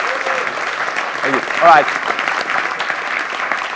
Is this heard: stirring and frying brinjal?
no